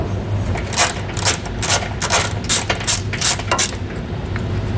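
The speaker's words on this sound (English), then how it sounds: "grab our socket, get that onto our bolt, and then kind of break it loose slowly" A socket wrench works a bolt loose on a 2018 Ford truck during an air helper spring install, with a rapid series of sharp metallic ratcheting clicks in uneven bursts close by.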